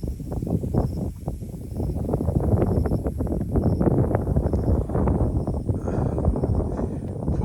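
Wind gusts through a ripe rice paddy on a haor floodplain at harvest time, a loud, close, continuous rustling roar with no voices.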